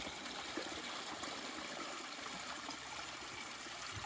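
A small creek flows into a little pool across a mountain hiking trail, producing a faint, continuous trickle and babble of water heard from nearby, with no talking.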